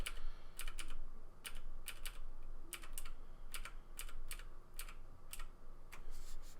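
Computer keyboard shortcuts being typed during digital drawing, sharp clustered key clicks in irregular bursts, close and clear with no talking.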